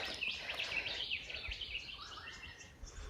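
Several birds, currawongs and willy wagtails, calling and chirping in the open, high warbling notes at moderate distance over a quiet background, in Kanangra-Boyd National Park.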